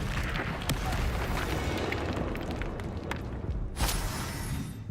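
Explosive blast of the Confringo fire spell in Hogwarts Legacy, a dense roaring burst with crackling debris and sharp transient hits over continuous game noise, loud and close.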